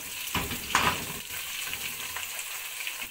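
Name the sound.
green chillies and vegetables added to a frying masala, sizzling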